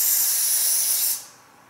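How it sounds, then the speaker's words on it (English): A single close, loud spray of Ebon lace spray on a wig hisses steadily for about a second, then cuts off abruptly into quiet. "now I'm gonna be using the Ebon Lace Spray"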